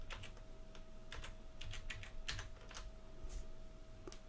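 Quiet, steady typing on a computer keyboard: soft, irregular keystroke clicks with no other sounds.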